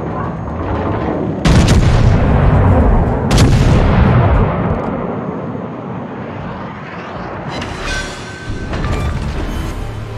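Heavy naval guns of the battleship Fuso fire at an enemy warship in World of Warships: two loud booming salvos about two seconds apart, each rolling off into a long rumble, followed by fainter crackling shots and mechanical clatter.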